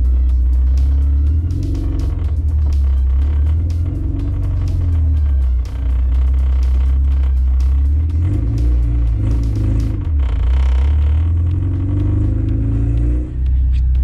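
A K24-engined Honda Civic pulling away on a drive, its loud low engine drone rising and falling through gear changes with steady road rumble, heard up close from inside the car.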